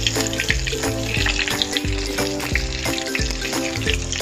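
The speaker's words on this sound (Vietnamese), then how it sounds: "Trứng, thịt, cà rốt, hành, chúng ta không nên bỏ đi, rất là lãng phí. Mình rán riêng ở bên góc như thế này nhé." A leftover filling of egg, meat, carrot and onion fries in a pan over low to medium heat. It gives a steady sizzle with faint scraping or stirring ticks and no talking.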